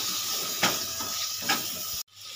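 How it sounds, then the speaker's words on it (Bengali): A spoon stirs fish curry with potatoes and pointed gourd in a pan, with a steady soft hiss of simmering and two brief scraping strokes before the sound cuts off abruptly. "একটু নেড়ে চেড়ে নেব।"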